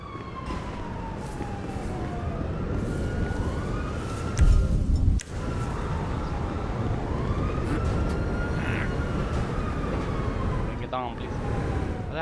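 An ambulance siren in the video game Grand Theft Auto 5 wails with slow rising and falling sweeps, repeating across the clip over a steady roar of engine and game noise.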